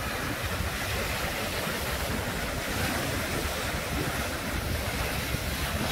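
Sea waves wash onto a beach in Bohol, a broad, steady roar of surf mixed with wind buffeting the microphone, loud and unbroken with no voices.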